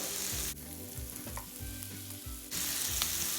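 Chopped onion and green chilli sizzle loudly in a hot pan during cooking, with a steady crackling fry that briefly quiets as the mix is stirred, then returns at full strength.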